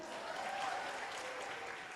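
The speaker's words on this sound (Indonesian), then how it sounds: "Boleh tepuk tangan dulu untuk Mas Ruslan?" Dense, steady clapping from a stand-up comedy crowd fills two seconds, an even wash of many hands at moderate distance with no voice on top.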